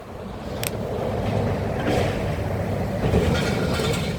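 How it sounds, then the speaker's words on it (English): Steady broadband rumble of passing vehicles on a very busy road, a continuous roar with a couple of swells as cars go by, fairly loud and with no talking. "I live on an extremely noisy road"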